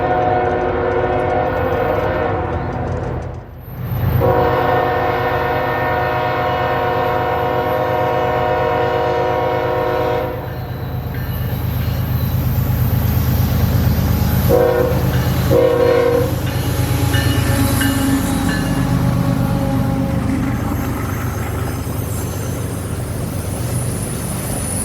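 A CSX southbound auto rack freight train rumbles past loudly with sustained horn blasts, then a long steady roll of cars with faint clickety-clack underneath.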